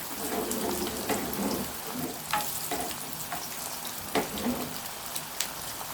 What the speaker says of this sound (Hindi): ये देख सकते हैं ये फ्राई हो रहे हैं कबाब ज़बरदस्त से